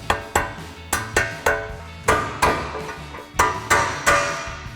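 Sharp metallic hammer taps strike a socket to seat a bearing on a Ford Bronco rear tire carrier, about a dozen ringing blows close up with brief decays between them.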